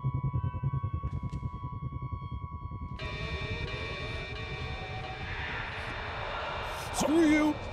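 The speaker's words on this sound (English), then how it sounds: "Is there a helicopter?" Helicopter in the horror video game Outlast, a rapid rhythmic rotor thump at first, then a broad whooshing engine roar that swells toward the end, fairly loud with game sounds layered in.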